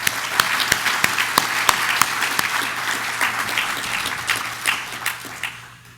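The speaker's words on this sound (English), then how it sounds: "could I have a collective round of applause for all of our terrific guests?" Audience applause for the guests at a court circuit opening program, a dense room-filling clatter of many hands with sharp individual claps standing out, holding steady and then thinning out toward the end.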